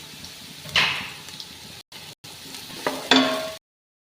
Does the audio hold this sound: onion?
yes